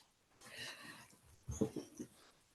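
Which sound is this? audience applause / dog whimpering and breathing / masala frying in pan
dog whimpering and breathing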